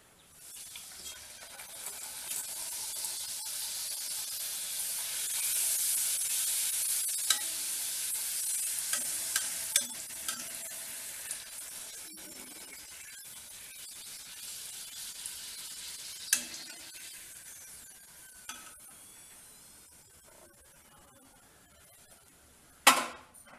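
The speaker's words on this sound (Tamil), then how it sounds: "நல்லா எண்ணெய் சூடான பிறகு போடுங்க." Steady crackling sizzle of urad dal puri frying in hot oil, with occasional sharp pops and clinks, continuous and close for the whole stretch.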